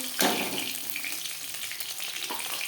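Tilapia fish fries in hot oil, giving a steady crackling sizzle throughout, with a brief louder burst of spattering near the start and no voices.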